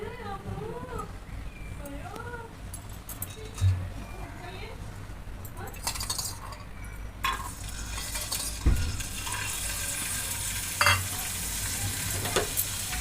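Almonds frying in a spoonful of ghee in a pan, a steady low sizzle with occasional stirring clinks and scrapes, while someone talks over it throughout.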